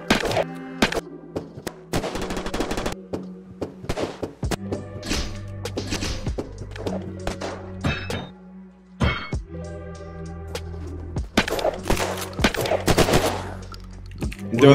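Gunfire in the survival shooter Unturned, rapid bursts of shots and heavy thumps in irregular clusters, loud and close, with a low hum underneath.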